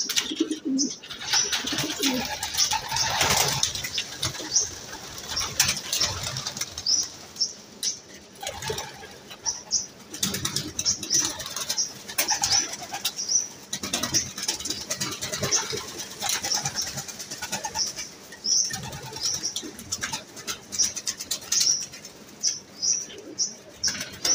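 Released racing pigeons take off from a loft during a derby season, with repeated bursts of wing flapping and scattered soft coos over a busy outdoor background.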